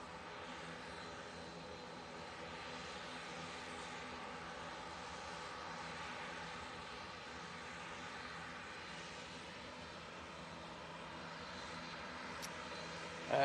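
An Emirates airliner departs Manchester Airport, its engines producing a steady, distant roar and whine that holds evenly throughout, with no one speaking.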